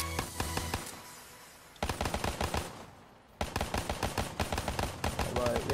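The MR6 pistol in a video game fires rapid bursts of sharp shots in quick succession, three clusters separated by brief pauses, loud and close.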